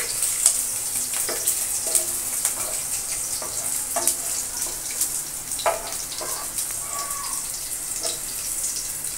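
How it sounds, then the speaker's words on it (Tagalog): Onions sautéing in oil until translucent, a steady, bright sizzle with spatula scrapes and occasional clacks as they are stirred, close and continuous with no talking. "ilagay na ang sibuyas. At ating pong mekos-mekos hanggang sa maging translucent"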